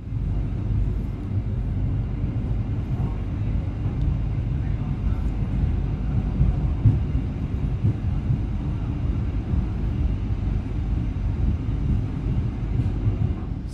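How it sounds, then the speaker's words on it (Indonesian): Low, steady rumble of the Jayakarta Premium passenger train running at high speed through the quiet night, a continuous heavy roar from on board with no talk. "Mantap, malam-malam di tengah kesunyian keretanya lewat"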